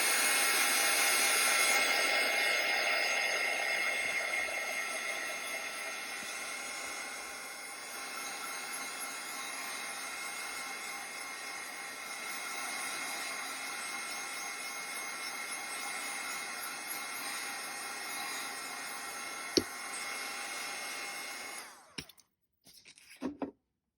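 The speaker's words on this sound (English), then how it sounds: "I'm going to blow dry that." A hair dryer blows steadily on a small watercolor painting, a constant whirring rush that eases slightly midway and then cuts off near the end with a few clicks.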